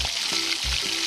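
Mutton with chili powder is stirred on a hot tava, a continuous frying sizzle with rhythmic scraping strokes of the spoon, brief and close with no speech.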